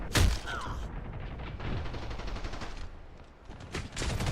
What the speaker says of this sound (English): They really reduced the stability and or kind of increased the spread of